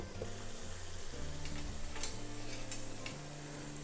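Chicken karahi masala frying in a karahi over high heat, a steady close sizzle with stirring scrapes and faint ticking clatter running without pause, no talk.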